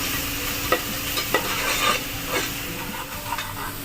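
Spices frying in hot oil in a pan, with turmeric and coriander powder just added: a steady close sizzle runs throughout, broken by a few soft scrapes and stirring taps.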